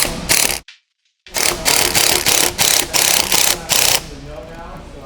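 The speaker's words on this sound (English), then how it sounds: "I'm going to grab my 11mm socket and tighten the clamp" An 11mm socket ratchet tightening an intake clamp on a Cadillac ATS-V cold air intake: a quick burst of clicking, a brief pause, then a run of about seven loud, close rhythmic ratcheting strokes before a quieter tail.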